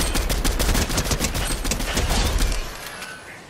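Rapid bursts of gunfire fill a battle royale video game fight, with a fast run of close shots that stops suddenly and leaves quiet behind.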